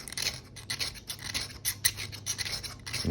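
A Simmons broadhead being sharpened with a file under heavy pressure: a continuous rapid series of harsh rasping strokes, close and steady, with no talk.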